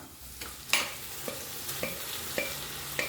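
Vegetables for pav bhaji stirred and frying in a pan, a spoon scraping in several separate strokes over a soft steady sizzle, close by with no talk.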